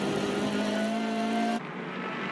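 TCR touring race cars racing at Winton Motor Speedway, a loud sustained engine roar with a high steady tone that cuts off abruptly into quieter distant track noise.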